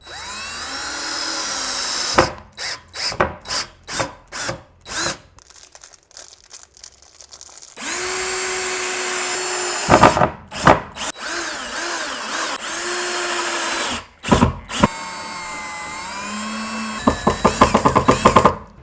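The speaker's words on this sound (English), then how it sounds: "I'm gonna try to screw it in without pre-drilling any holes." A power drill whirs in repeated short bursts and longer runs, driving screws into wood, with a rising whine as each screw seats.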